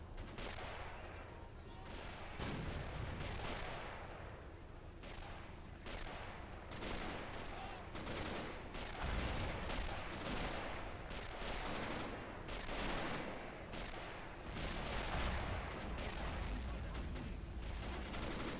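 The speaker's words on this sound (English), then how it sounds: "Polish artillery and German artillery from both sides are firing at the attackers and defenders" Polish and German artillery and small-arms fire in the 1939 Invasion of Poland scenario of the video game Men of War, a dense continuous barrage of overlapping blasts and gunshots, loud and unbroken.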